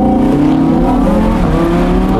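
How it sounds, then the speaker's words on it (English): A naturally aspirated V10 in a 2017 Audi R8 Spyder revs hard under acceleration with a loud, steady, rising engine drone that sounds close by. "you can hammer the throttle at any time, and this naturally aspirated engine"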